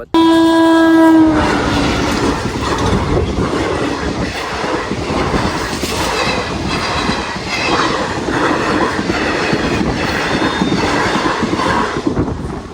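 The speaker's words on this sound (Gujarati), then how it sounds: "જો રેલનો પાટો આડો આવી જશે તો થોડીક રાહ હોય ટ્રેન આવે તો ત્યાં વિડીયોની અંદર બની જાય" A train horn blasts at a railway crossing, then the train rolls past on the track, its wheels clattering loudly and steadily close by for the rest of the clip, with no talk.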